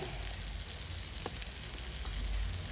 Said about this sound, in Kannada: ಕೊನೆಗೆ ಸ್ವಲ್ಪ ಕೊತ್ತಂಬರಿ ಸೊಪ್ಪನ್ನು ಹಾಕಿ ಒಳ್ಳೆ ಮಿಕ್ಸ್ ಮಾಡಿ ಗ್ಯಾಸ್ ಆಫ್ ಮಾಡ್ತೀನಿ